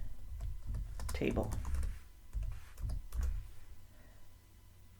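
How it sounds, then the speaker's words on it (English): Computer keyboard typing while entering a spreadsheet title in Excel, with quick clicking keystrokes close by, partly under a person talking. "I'm going to type the title grade"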